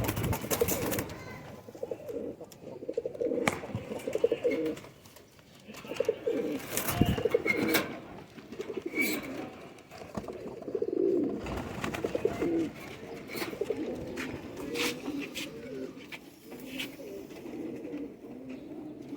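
Breeder pigeons coo steadily in a loft, their low throaty calls repeating and overlapping close by for the whole stretch, with scattered wing flaps and clicks mixed in.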